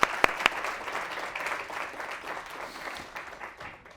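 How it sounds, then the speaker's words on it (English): Audience applause at a psychology oath-taking ceremony: a few sharp claps, then a steady clapping crowd that gradually thins and fades over a few seconds. "give yourselves a round of applause for making it this far in psychology"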